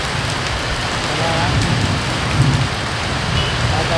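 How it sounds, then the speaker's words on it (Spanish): Heavy rain pours down on a street in a dense, continuous roar, steady and close throughout. "Está lloviendo muy fuerte, realmente demasiado fuerte."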